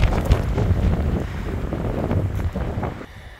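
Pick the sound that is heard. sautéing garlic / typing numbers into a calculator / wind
wind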